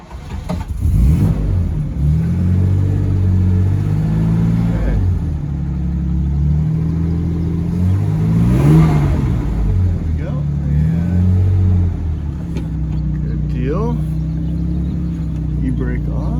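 A 1956 Jaguar XK140 fitted with a Tremec transmission fires up and settles into a loud, close, throaty idle, then revs up and down in several swells, with some talk over it.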